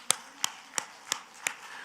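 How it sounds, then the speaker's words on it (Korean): A church congregation claps hands in a steady beat, five sharp claps at an even pace, fairly close and clear over a quiet background. "하나님께 박수를 영광."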